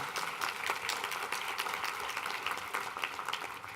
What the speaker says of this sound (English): So let's give them a round of applause, even though they're not here